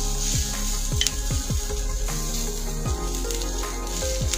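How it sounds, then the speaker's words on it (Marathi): Ginger and garlic fry on a griddle in a Malvani-style home kitchen, a loud steady sizzle with occasional scraping strokes of a spatula, close up and with no talking. "आता आपण ह्याच्यामध्ये ना पहिलं आलं आणि लसूण घेऊया, ते चांगलं परतून घेऊया आपण तव्यावरती"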